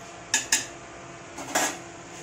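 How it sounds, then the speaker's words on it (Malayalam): A spoon scrapes and knocks against a pot while chicken curry masala is stirred, giving two quick metallic clinks followed by a duller scrape, close by and fairly quiet, with no talking. "നല്ലോണം ഇളക്കി കൊടുക്കണം."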